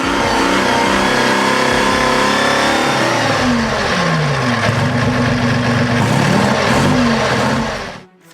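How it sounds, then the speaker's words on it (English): Abbott self-propelled gun's twin-crankshaft engine of 240 brake horsepower, idling, then revving up and down in rising and falling sweeps, loud and close, before cutting out abruptly at the end. "With twin crankshafts and 240 brake horsepower, it powered the Abbott SPG through mud, heat, and chaos."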